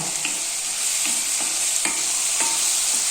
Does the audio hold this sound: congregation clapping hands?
no